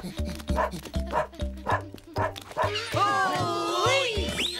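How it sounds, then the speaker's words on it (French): Cartoon dog Bill from Boule et Bill barks in a quick run of yips, about eight sharp barks in a steady rhythm, close and loud, then gives way to rising, whining tones. "Non, là, un chien!"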